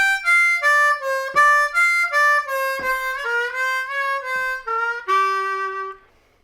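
Blues harmonica running a fast descending scale pattern in sixteenth notes, with quick bright notes stepping down and back up, close and clear with no talking.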